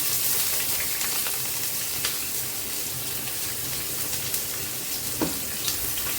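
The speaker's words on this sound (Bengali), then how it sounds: "পেঁয়াজটা একটু লাল লাল করে ভাজি করে দেবো" Chopped onion and garlic sizzling in hot oil in a pan, a steady close hiss with occasional pops and stirring scrapes.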